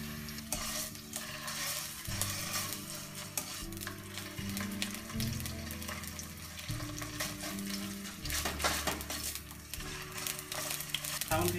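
Salmon fries in olive oil in a frying pan, with chopped onion added, producing a constant crackling sizzle and occasional scraping as it is stirred, under soft background music.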